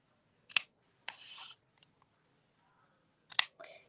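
Scissors snip ribbon for a faux bow in a few crisp, close cuts: a sharp snip, a short rustling slice, then another sharp snip and a rustle near the end, in a quiet room.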